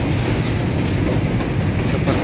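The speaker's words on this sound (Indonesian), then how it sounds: "banyak kereta yang berlalu lalang" Trains pass through busy Manggarai station in Jakarta near the flooded Ciliwung river, giving a loud, continuous rumble of wheels and carriages with a dense rattling roar throughout, no voices.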